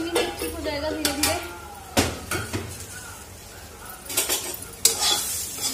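Vegetables roasting in a pan give a soft sizzle under repeated scraping and clinking strokes of a spoon against the metal, in an uneven rhythm. A voice is heard at times.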